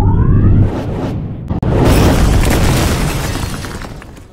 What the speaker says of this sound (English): a car just appears, and it throws it at anything, and you'll see something explode.